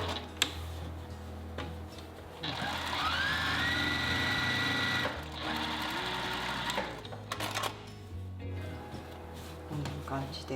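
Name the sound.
sewing machine backstitching from the pocket opening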